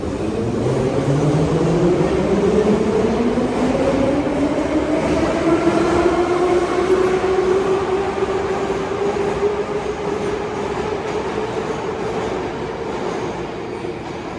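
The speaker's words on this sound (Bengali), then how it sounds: "একটা ট্রেন যখন স্টেশন ছেড়ে চলে যায়" A Moscow Metro train pulls away from a station, its electric motor whine rising steadily in pitch over a loud, continuous rumble of wheels on rails.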